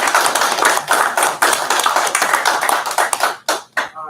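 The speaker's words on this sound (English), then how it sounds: "Can we give him a round of applause?" An audience at a county commissioners court meeting gives a round of applause, a close, loud flurry of individual hand claps that thins out and stops near the end.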